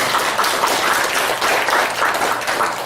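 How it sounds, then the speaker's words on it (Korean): Sustained applause from a church congregation at a New Year's Eve service, a dense even wash of many hands clapping steadily for the full few seconds with no voices on top. "하나님께 다시 한번 우리 감사의 박수"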